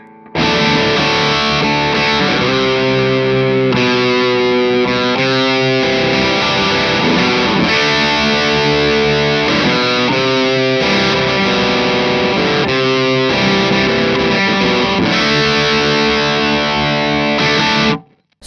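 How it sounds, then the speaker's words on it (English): An electric guitar plays chords and riffs through a Harley Benton Crunch Distortion pedal, loud, thick and saturated, sustained phrases with brief pauses, no talk. "that was the Crunch Distortion by Harley Benton, a great sounding distortion pedal that seems to work well with humbuckers and single coils"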